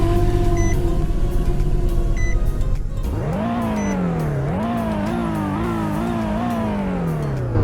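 A Nissan/Infiniti G37 V6 idles with a loud, close, steady hum, then revs up and repeatedly rises and falls in pitch before settling back down, with no talking over it.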